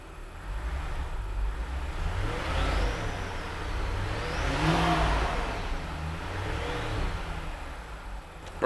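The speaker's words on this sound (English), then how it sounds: "Let's give it a few revs." A rebuilt supercharged V8 in an Alpina B7 revs from idle, swelling in several smooth climbs and falls of engine pitch with a whining supercharger note, heard from close by with no talking.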